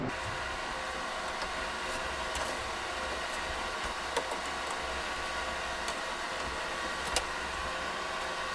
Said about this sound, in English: So our freeze dryer is doing its thing.